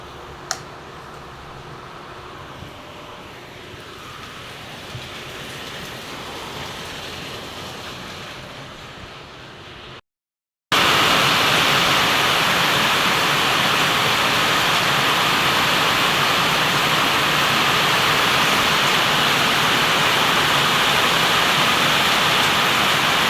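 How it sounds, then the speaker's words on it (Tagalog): Very heavy rain from Typhoon Ramil pours down in a steady, dense roar, quieter for about ten seconds, then after a short gap much louder and close, like water being dumped without pause. "Sobrang lakas po ngayon ng ulan. Parang binubuhos."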